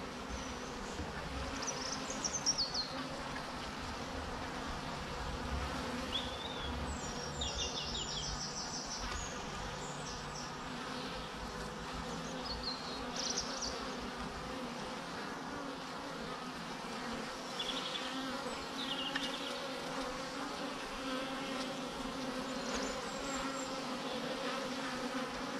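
A dense, continuous buzz of many honeybees flying at a hive entrance, close by and steady throughout, with faint birdsong in the background.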